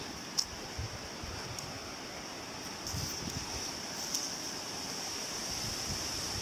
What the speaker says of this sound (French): J'entends le bruit de la cascade en bas.